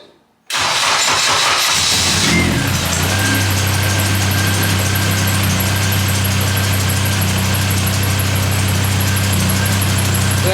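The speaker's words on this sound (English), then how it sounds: "That squeak that you hear is that belt." A Honda Civic engine cranks and catches, then settles into a steady idle with a persistent high-pitched squeal from a worn, slipping drive belt running over the engine hum.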